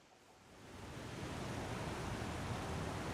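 Wind in the survival game The Long Dark blows as a steady, broad roar that swells over the first second, then holds loud and constant, with no talk over it.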